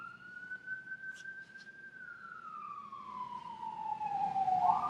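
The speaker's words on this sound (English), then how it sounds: "Hear that siren?" A siren wails at a distance, one long rising-and-falling tone that swells louder toward the end over faint background noise.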